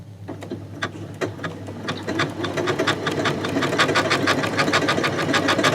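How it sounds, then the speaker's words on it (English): A Janome sewing machine fitted with a ribbon/sequin foot stitches ribbon, its rapid needle clatter starting in uneven bursts and then settling into a steady, loud, close mechanical rhythm with no talking. "My foot is then going down and we're going to start sewing."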